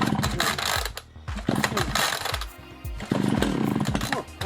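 Echo chainsaw being pull-started, several rapid recoil-cord yanks with ratcheting pull-cord whir and brief engine sputters that fail to catch, close and loud, no talking.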